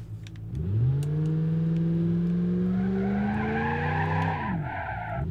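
A car with a 5.5 liter engine accelerating in BeamNG, a loud steady engine drone rising in pitch as it revs up, held for several seconds before the revs drop off at the end, with tire noise underneath.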